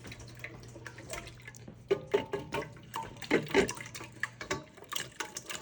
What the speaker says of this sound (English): now we're gonna whisk these eggs